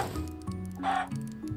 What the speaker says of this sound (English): summon a bunch of chickens